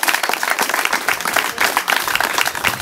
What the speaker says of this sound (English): So I want to give a big round of applause to the students.